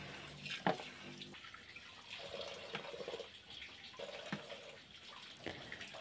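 Tap water runs faintly in a kitchen sink while a cleaned, split fish is washed, a soft steady stream broken by a few light knocks and splashes.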